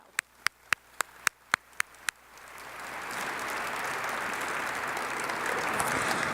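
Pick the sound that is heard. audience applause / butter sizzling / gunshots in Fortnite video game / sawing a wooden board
audience applause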